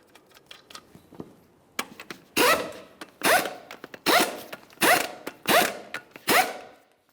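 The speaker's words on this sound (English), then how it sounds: "We'll start on all 6 of our 19mm lug nuts, snug them up" 19mm lug nuts on a Chevrolet Trailblazer wheel are snugged up with a hand ratchet, giving about six quick, rasping bursts in a steady rhythm, close by and loud, with a few lighter clicks before them.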